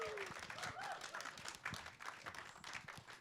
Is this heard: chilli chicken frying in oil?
no